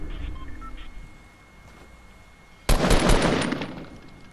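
Fortnite gunfire erupts suddenly partway through as a loud, close burst of rapid shots that keeps rattling to the end after a quieter stretch.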